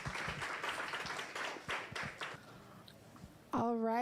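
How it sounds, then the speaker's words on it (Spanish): An audience claps at a Spanish-language planning academy session, scattered and uneven, thinning out and fading before a brief loud tonal sound cuts in near the end. "Otro aplauso, por favor."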